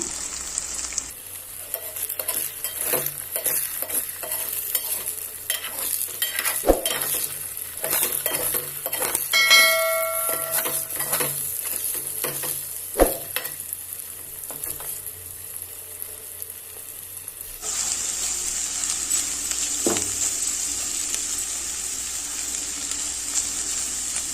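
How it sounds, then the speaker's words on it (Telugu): Eggs sizzling in an oiled pan with pepper and salt while making egg fried rice: a steady close frying hiss, broken by stirring and metal utensil clinks and scrapes. "ఎగ్స్ బాగా ఫ్రై అయిపోయినాయి కదండి."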